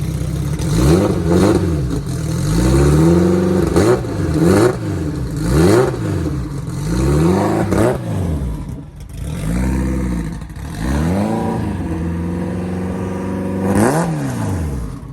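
A car engine revs repeatedly, rising and falling in pitch in a series of loud, close bursts with a brief pause midway.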